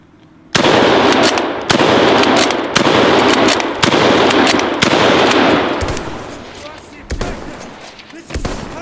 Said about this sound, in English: I'm gonna shoot some as fast as I can and see how they compare.